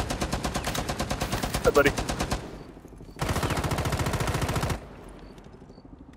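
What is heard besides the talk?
gunfire in video game (Rainbow Six Siege)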